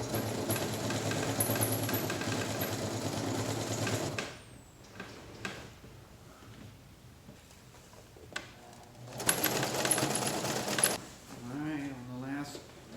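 A sewing machine drives a double seam through thick canvas layers for a yurt, whirring steadily for several seconds, stopping amid clicks and handling noise, then running again in a second burst before a voice speaks.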